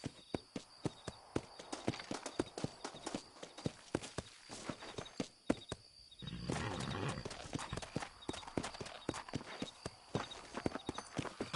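Horse hooves clip-clop at a steady walking rhythm in the Red Dead Redemption video game, close and distinct, pausing briefly before resuming alongside a louder stretch of ambient noise.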